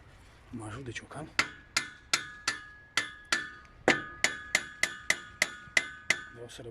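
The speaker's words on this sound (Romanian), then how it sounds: "mă ajut de ciocan." Sharp, ringing hammer strikes on a metal rod fixed to a greenhouse arch come in a steady series of about fifteen blows, close and loud, each with a brief metallic ring.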